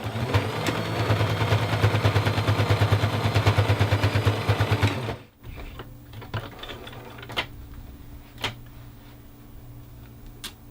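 A sewing machine stitches a stuffed toy arm in a fast, even run of mechanical clatter for about five seconds, then stops, leaving a quiet room with a few soft handling clicks.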